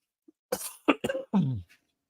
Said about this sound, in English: I've had a cough for like 2 weeks.